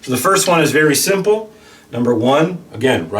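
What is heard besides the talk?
No everyday noises stand out.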